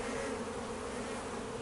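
Honey bees buzz in a dense, steady drone as they're shaken down into a brood box to rehive a colony, loud and close with no break in the hum.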